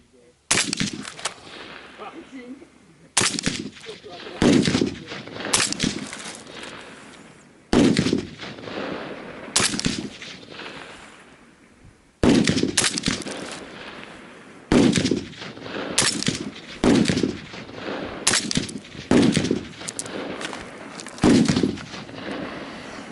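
Suppressed rifle shots fired through direct-mounted Inconel and stainless steel suppressors crack out in sharp single reports and quick strings, each followed by a short decaying echo, spread irregularly across the stretch with brief pauses between.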